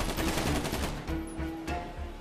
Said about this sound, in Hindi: अरे ये क्या, उस तरफ से गोली चलाने की आवाज आई